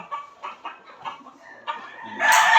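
Gamefowl roosters at a game farm cluck in a run of short calls, then one bursts into a loud, harsh crow near the end, close by.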